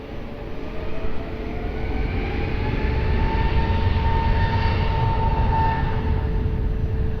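An airplane takes off from runway 20 at Lisbon Airport, its steady engine roar building over the first second and then holding loud and broad, with a faint tonal whine running through it.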